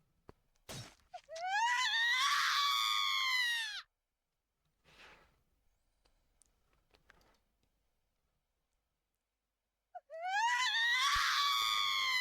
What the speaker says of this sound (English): suddenly I heard a scream in the distance.